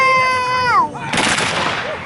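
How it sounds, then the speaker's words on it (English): A sustained horn-like tone bends downward, then a line of Confederate reenactors fires a musket volley outdoors at a balloon fiesta drill display, a single loud crack followed by a long rolling echo. "Watch the Confederates, because they're going to fire."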